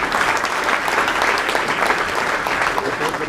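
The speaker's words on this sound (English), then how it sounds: "So if we give Steve Bousquet a big round of applause, he'll come up, take the show." An audience at a Tiger Bay Club sheriff debate breaks into applause: steady, dense clapping that fills the room, fairly loud and continuous from start to finish.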